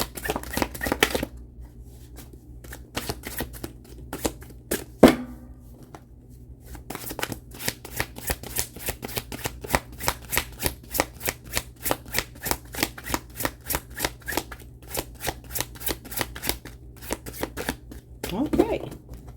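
Tarot cards shuffled by hand, close up, giving rapid rhythmic riffling clicks that repeat steadily in quick bursts for most of the stretch, with a few louder slaps and handling sounds.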